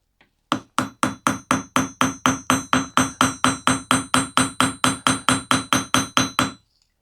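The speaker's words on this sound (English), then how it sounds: "it makes it a lot easier to rivet these copper rivets" Copper rivets for a leather belt are hammered on an anvil in a steady run of about twenty-five sharp, ringing metal strikes, close and evenly spaced, each one loud and clear with no talking.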